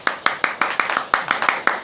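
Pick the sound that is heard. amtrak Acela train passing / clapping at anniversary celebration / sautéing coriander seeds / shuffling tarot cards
clapping at anniversary celebration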